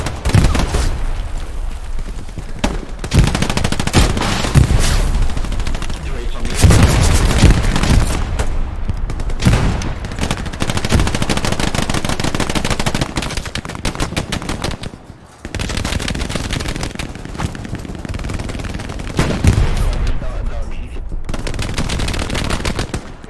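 Machine gun fire in the World War II shooter Hell Let Loose during an offensive at St Marie Du Mont, heard as long, loud, sustained rattling bursts with brief pauses, backed by scattered gunshots and booms.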